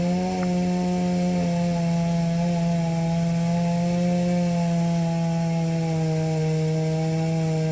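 Chainsaw cutting trees beside a house, a sustained loud buzzing drone with a slight pitch dip near the start, running continuously at close range.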